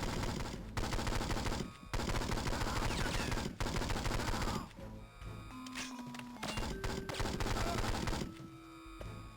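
Gunfire in the 2003 Game Boy Advance game 007: Nightfire: dense, rapid volleys of synthesized shots that run almost without a break, with a few short electronic tones near the end, heard at modest volume.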